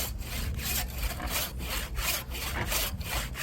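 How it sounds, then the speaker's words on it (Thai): A brand-new hand saw cuts through firewood outdoors, its teeth rasping back and forth in a steady rhythm of about eight strokes, close and loud, with no talking. "นี่เลื่อยใหม่ ๆเลย"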